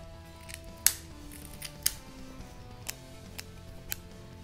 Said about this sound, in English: Just trim right above the mouth.